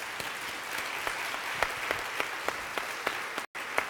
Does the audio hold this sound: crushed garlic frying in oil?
no